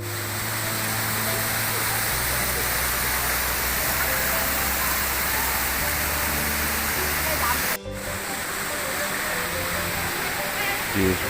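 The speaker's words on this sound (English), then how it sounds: "Banyumala Waterfall, also known as the Twins Waterfall, is one of the most beautiful waterfall in the North Bali." Banyumala twin waterfall in North Bali, a steady, dense roar of falling water that stays loud and even throughout, with a low hum running beneath it and a brief dip near the end.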